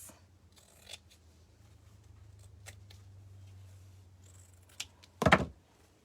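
Scissors snip off excess fabric while a stuffed Easter carrot is being sewn, with a few quiet scattered snips and rustles, then a louder crunching cut near the end.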